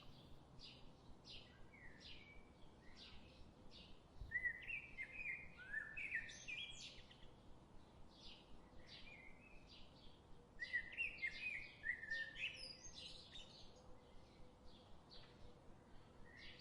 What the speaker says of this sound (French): Le chant des oiseaux qui se répondent d'arbre en arbre